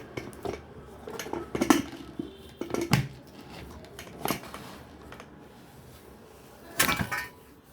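A pressure cooker lid is fitted onto the pot in a home kitchen, with several sharp metallic clanks and scrapes of the lid in irregular bursts, close and fairly loud over quiet background noise.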